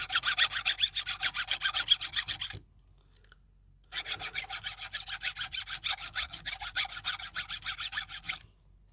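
Hand saw cutting through ivy-covered tree wood, a fast rhythmic rasping of back-and-forth strokes, close and loud, pausing briefly before resuming at the same steady pace.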